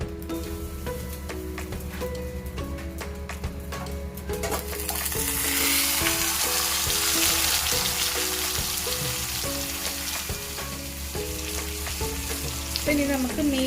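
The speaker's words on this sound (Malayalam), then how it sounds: "ഇനി നമുക്ക് മീഡിയം ഫ്ലെയിമിൽ 2 സൈഡും ഇത് ഫ്രൈ ചെയ്തെടുക്കാം." Fish, pomfret, shallow frying in coconut oil in a pan over a medium flame, a steady loud sizzle and crackle that swells after a few seconds and holds under music.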